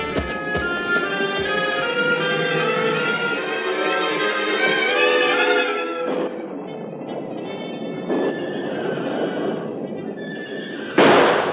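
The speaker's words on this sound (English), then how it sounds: "Maybe it's them Mexican ponies I hear kicking up a fuss." Mexican ponies whinny and neigh loudly in a corral of wild horses, a long sustained whinny followed by more calls and a sharp thump near the end, with no talk.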